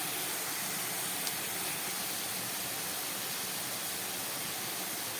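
A pan of bottle gourd curry with peas and green chillies simmers with a soft, steady hiss and faint bubbling, continuous and even throughout.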